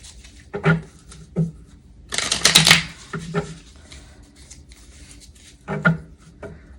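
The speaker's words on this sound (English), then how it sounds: "I'm going to do a good hard shuffle" A deck of tarot cards is shuffled hard in several quick riffling bursts, the longest near the middle, close and crisp with short pauses between.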